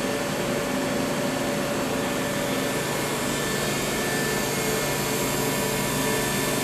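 A 2001 Matsuura MC-550-VX CNC vertical machining center with a BT 40 taper spindle runs at 6,500 RPM, giving a steady broadband whir with faint tonal hums, constant and close.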